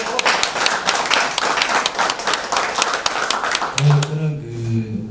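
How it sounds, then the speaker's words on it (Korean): Audience applause at a social economy policy meeting in Gwangju: loud, busy clapping from a room of people for about four seconds, then fading as a voice starts speaking near the end. "다 같이 박수 한번 부탁드리겠습니다"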